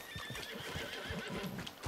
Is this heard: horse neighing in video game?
yes